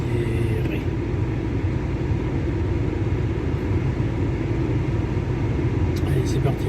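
A car rolling along a dirt track in the Monegros desert, a steady loud low rumble of engine and tyres on the rough surface that holds for several seconds at a constant level.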